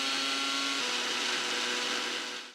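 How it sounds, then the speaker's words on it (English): An electric blender runs steadily, whirring chicken tikka marinade into a smooth paste. The loud, continuous motor drone holds even for the whole stretch, then trails off at the very end. "Now let's blend it all together."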